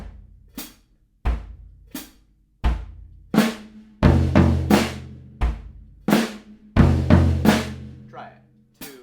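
Drum set warmup pattern of kick and snare hits, played alone and close: sparse single strokes at first, then denser accented hits building through the middle with ringing low tones, thinning out at the end.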